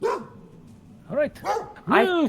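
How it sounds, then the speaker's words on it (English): A dog barks in a few sharp, close bursts, heard as a sound effect through headphones, with a voice speaking briefly between them. "thought that was a dog in my room"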